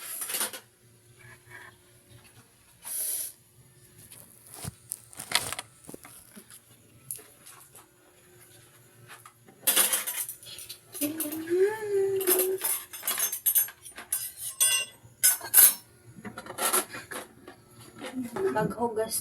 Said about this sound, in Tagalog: maghugas ng pinggan